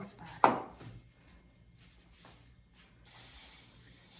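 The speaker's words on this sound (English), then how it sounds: "just spray it on your rock" A short hissing burst from a spray can of shellac sprayed onto a rock, then quiet, followed by a longer, softer steady spray hiss toward the end.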